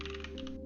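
Computer keyboard keys pressed in a quick run of clicks against a steady electrical hum.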